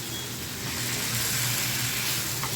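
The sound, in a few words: stirring chicken frying in ghee in a pan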